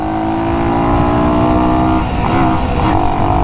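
A Honda CT90 motorcycle, roughly 60 years old, pulling away from a stop sign at full throttle, its small engine droning loud and close with rising pitch and a brief dip as it shifts.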